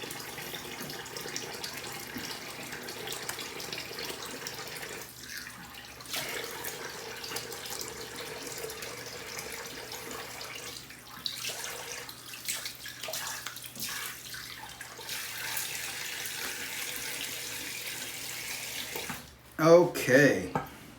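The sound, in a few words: tap water running while rinsing face after shave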